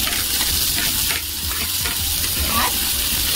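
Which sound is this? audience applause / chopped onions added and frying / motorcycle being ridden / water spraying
chopped onions added and frying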